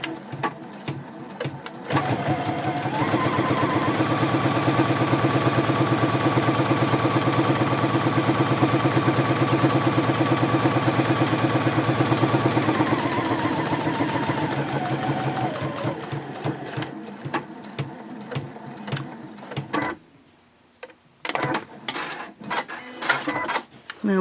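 Sewing machine top stitching a pouch seam at stitch length 3.0, a fast continuous mechanical whirring that runs steadily for about thirteen seconds, then slows and stops, followed by scattered clicks and handling noises.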